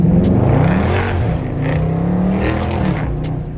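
A Dodge Charger Scatpack Widebody with a mid muffler delete roars on the road, its deep loud exhaust rumbling and rising in sustained revs close by.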